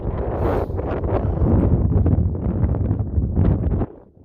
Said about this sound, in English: This is absolutely horrendous, this wind.